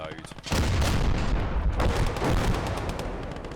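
Heavy gunfire and artillery bombardment in the war game Call to Arms: Gates of Hell, a loud roaring barrage of booms and rapid shots that surges in and rumbles on without pause.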